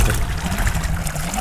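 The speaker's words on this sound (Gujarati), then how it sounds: "આ એનો છોકરો પાણી વાળે છે" Irrigation water trickling and gurgling as it is channelled into a farm field, a close, continuous watery flow with no talking.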